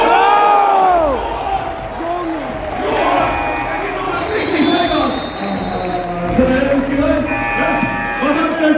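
A crowd in a basketball hall at a creator basketball tournament final applauds and cheers, a steady roar of clapping and shouts with whoops and sneaker squeaks throughout, fairly loud and continuous.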